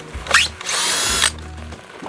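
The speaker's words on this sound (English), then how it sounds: "I'm gonna take these hinges off." A power drill buzzes in short bursts and then a longer sustained whine as it backs screws out of hinges on a chicken coop door, loud and close with no talking.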